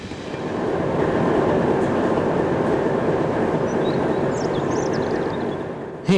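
A Class 781 train at Schirnding station rumbles past nearby, with a steady broadband roar, rhythmic wheel clatter and faint high squeals throughout, then a sudden bump at the end.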